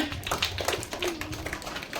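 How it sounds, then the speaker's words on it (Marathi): Schoolchildren at a district school quiz festival clap in a quick, uneven burst of applause, a scattered group of hands patting at close range. "टाळ्या."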